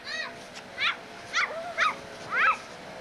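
A pet dog at its dog house outdoors gives a run of short, high yips and whimpers, close by, with someone's voice in the background.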